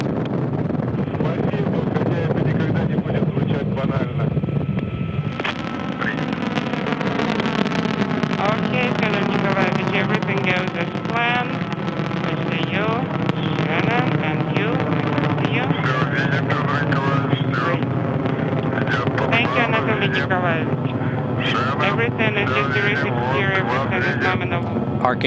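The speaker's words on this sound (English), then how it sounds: "Liftoff of the Soyuz rocket" A Soyuz rocket lifts off carrying the Expedition 24 crew to the International Space Station. A deep, broad, steady roar swells in after a few seconds and holds loud under ongoing commentary.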